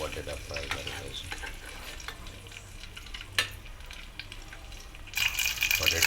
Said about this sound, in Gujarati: પછી એ જ રીતે આપણે તેમાં બટેટા ફ્રાય કરી દઈશું.